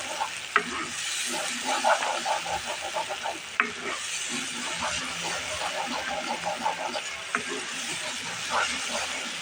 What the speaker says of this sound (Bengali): মশলাটা আমি ভালো করে কষিয়ে নিই